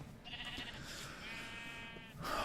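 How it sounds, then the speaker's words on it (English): Sheep bleating in Minecraft, out in the wilderness, a drawn-out wavering bleat of about two seconds, fairly close and clear, heard alone. "Oh, sheep."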